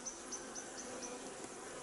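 Honey bees buzz faintly around the entrance of an artificial swarm hive in spring, a soft continuous hum with brief higher flicks as individual bees fly in and out nearby.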